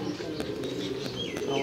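A female pigeon coos close by in a soft, rolling low murmur that stays steady, with faint higher chirps over it.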